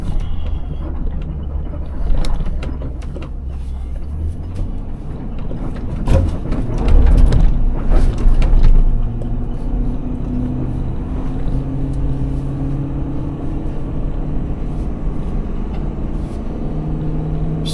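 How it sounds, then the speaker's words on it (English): An old truck loaded heavily with mulch drives slowly, its engine giving a steady loud cabin rumble with a low drone, a brief louder surge midway, then a rising tone as it pulls on. "I'm in the old truck, so yeah."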